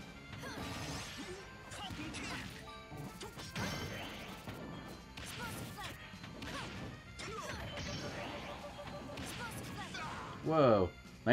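Super Smash Bros Ultimate online arena battle, with an explosive attack landing among repeated smash and whack impacts and swooshes, and a person talking over the game action throughout.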